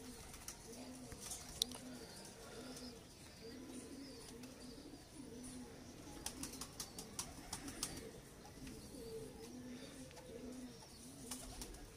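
Soft, repeated low cooing from Lal Pari breed pigeons in a loft, with a rhythmic purring pattern under faint background noise and occasional light clicks.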